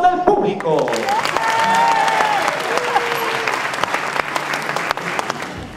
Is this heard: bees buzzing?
no